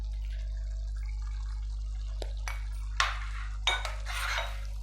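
Spices go into goat liver in a pan, with a few sharp clinks and a scraping rattle of a spoon against the cookware breaking a quiet, humming kitchen background.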